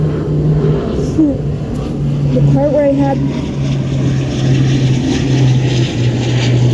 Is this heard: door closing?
no